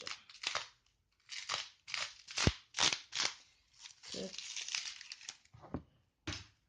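Scissors snipping through merchandise packaging during an unboxing, a series of short, close crisp cuts and crinkles in irregular bursts separated by brief silences.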